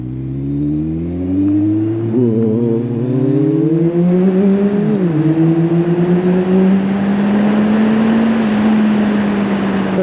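A Kawasaki Z1000 SX sports tourer motorcycle in its lowest power setting accelerates through the gears, the engine note climbing and dropping at each shift into a loud, sustained drone with heavy wind rush, no talking.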